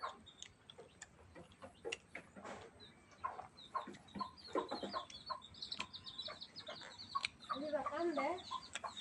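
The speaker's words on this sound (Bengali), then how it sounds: "এই যে দেখেন, ছোট্ট একটি বাচ্চা মুরগি" Small chick-like peeps and soft clucks repeat in quick bursts, with a cluster of chirpy calls near the end over light background rustle.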